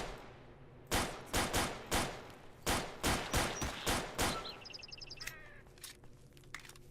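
Gunfire in the video game Stalker: a quick run of about eight loud, sharp shots fired in a steady rhythm over several seconds, followed by faint electronic beeps and chirps from the game.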